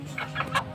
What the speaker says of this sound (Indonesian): Reka, pegang ayamku.